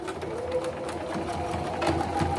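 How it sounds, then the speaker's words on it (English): A sewing machine runs steadily up close, a fast rhythmic mechanical whir and needle tapping throughout the short stretch. "Help if I turn on my sewing machine, I guess."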